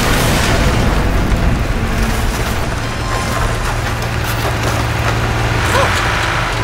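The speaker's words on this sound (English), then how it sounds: "I'm going to attempt a manual override on this wall" A wall in the Portal 2 video game is torn open by a manual override, producing a loud, continuous grinding and splintering rumble with scattered cracks and crunches that stay strong throughout.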